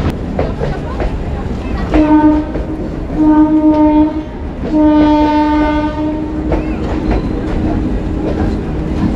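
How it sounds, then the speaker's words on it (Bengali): A Rampurhat–Bardhaman MEMU local train passes loud and close, sounding several long horn blasts over rumbling wheels and rail noise. "আর এখান থেকে চলে যাচ্ছে রামপুরহাট বর্ধমান মেমু লোকাল"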